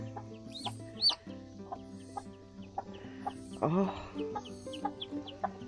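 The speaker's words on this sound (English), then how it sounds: "It's a hen." Soft, scattered clucks from a nearby hen, intermittent over a quiet background, with a brief voice exclamation.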